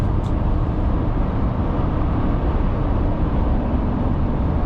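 Steady, loud tire and road roar fills the cabin of a GMC Sierra 2500 AT4X pickup truck cruising at highway speed, a continuous broadband rumble with no talking.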